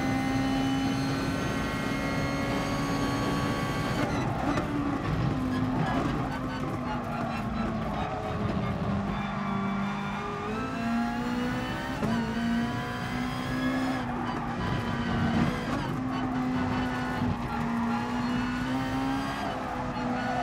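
A high-revving race car engine in Gran Turismo Sport drones steadily throughout, its pitch rising and dipping with gear changes, with faint skids and background noise.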